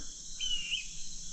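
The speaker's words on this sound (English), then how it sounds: "Hawk up in that tree. I hear you up there" A hawk calls from a tree on a damp mountain morning in remote West Virginia, giving a single thin, high whistled cry that is fairly faint over steady insect and outdoor hiss.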